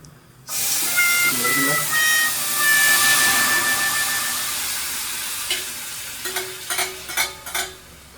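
Water poured into a hot tempering of coriander and curry leaves for garlic pepper rasam, bursting into a loud sustained sizzle and hiss that slowly settles, with a few clinks of a utensil near the end.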